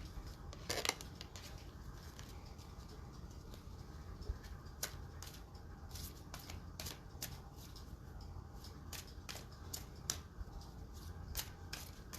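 Tarot cards being shuffled by hand, a faint series of soft crisp flicks and taps scattered irregularly over a quiet room background, no talking.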